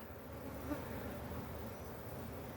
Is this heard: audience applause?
no